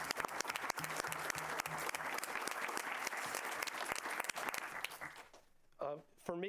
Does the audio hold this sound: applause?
yes